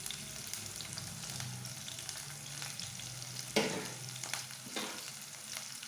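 Chopped medium onions and green chillies fry in a pan for idly upma, a steady sizzle broken by several clattering stirs, with one sharper knock midway and no talk.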